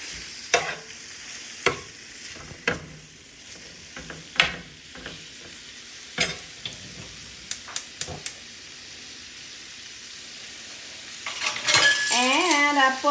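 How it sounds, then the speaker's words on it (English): Marinated meat frying for japchae, Korean stir-fried noodles, in a pan, with a steady sizzle broken by repeated sharp clicks and scrapes of a utensil stirring, and a louder hiss rising near the end. "Let's cook this until the meat is no longer pink"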